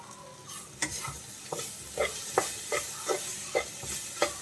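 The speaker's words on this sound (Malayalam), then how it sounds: "ഇനി ഇതെല്ലാം കൂടി ഒന്ന് ഇളക്കിയെടുക്കാം." A drumstick leaf thoran is stirred in a frying pan with about eight evenly spaced scrapes of the spoon, over a soft, quiet sizzle.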